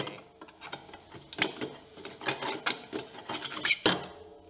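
A tool pries a bearing off a corroded alternator housing: a string of close metallic scrapes, creaks and clicks with uneven rhythm, ending in a sharper snap.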